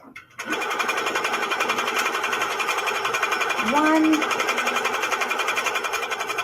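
A sewing machine stitches quilted feathers in a steady, fast mechanical whir that runs almost without a break after a quiet start, with a brief rising whine partway through.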